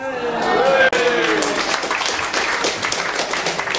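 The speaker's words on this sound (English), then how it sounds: "I don't know why you're all fucking clapping" Audience clapping at a student comedy show, a sustained patter of applause from a crowd filling the room, with a voice talking over it.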